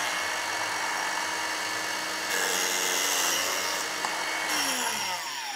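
Makita DPJ180Z 18V cordless biscuit joiner running as it cuts a slot, a loud steady motor whine that rises in pitch and grits harder midway during the plunge, then settles back, with no voice.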